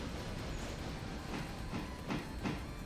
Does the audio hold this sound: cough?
no